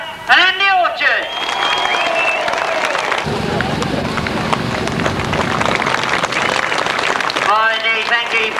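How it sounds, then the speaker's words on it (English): A crowd at a 1993 grasstrack sidecar prize-giving applauds third-place finishers Dave Steer and Andy Orchard, a dense, steady wash of clapping running several seconds, with a public-address voice speaking over it at the start and end. "thank you for showing your applause"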